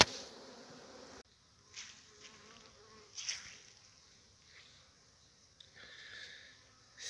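Honeybees buzzing around nucleus hive boxes at an apiary raising island-mated Cordovan queens, a steady faint hum in the first second, then scattered soft buzzes from bees flying close by.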